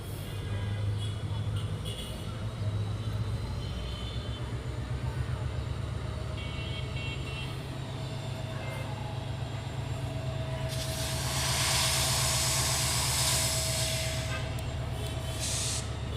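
A long freight train rolls slowly out of a halt, a steady heavy rumble of wagons and rails that holds throughout and swells slightly near the end, with a brief hiss on top.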